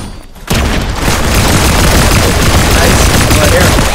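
Sustained, loud gunfire from the video game Fortnite bursts in after a brief quiet start and continues densely as a steady barrage for several seconds.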